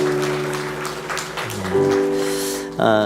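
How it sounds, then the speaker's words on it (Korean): A church congregation claps during a Sunday worship service. The applause is mixed with sustained keyboard or organ tones that shift pitch partway through, and it swells again briefly at the end. "우리 하나님께 영광의 박수 드리겠습니다"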